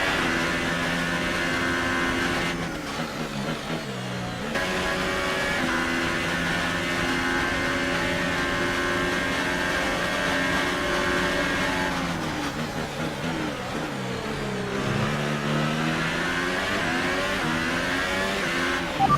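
An F1 race car engine in the video game F1 2018 screams continuously, its high revving whine rising and dropping through gear changes and braking, loud and close throughout.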